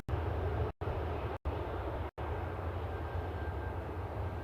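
A DHL cargo plane at Manchester Airport gives a steady, fairly loud engine roar that fills the scene, cut by three brief dropouts, with no one talking.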